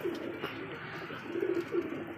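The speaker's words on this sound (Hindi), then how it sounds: "अच्छी कबूतरी है ये" A pigeon, a bent-legged female, coos softly a few times in short low murmurs near the end, under a steady faint background hum.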